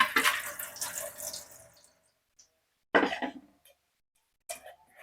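Water splashes into a small pot holding a strainer of flattened rice (aval) for pakoda, in three separate bursts: a longer pour at first, then two short splashes after pauses of quiet.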